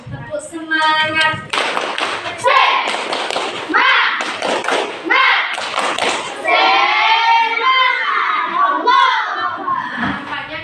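A classroom of pupils does the 'tepuk semangat' rhythmic clap, a patterned sequence of loud group claps mixed with chanted voices and a teacher's speech.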